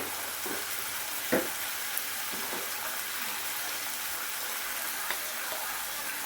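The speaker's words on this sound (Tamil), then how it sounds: "தக்காளியை போட்டு கொஞ்சம் வறுத்து விட்டுட்டு தேவையான அளவுக்கு உப்பு" Tomatoes and salt frying in a pan for egg curry make a steady, close sizzle, with a few soft clinks of a utensil stirring through it.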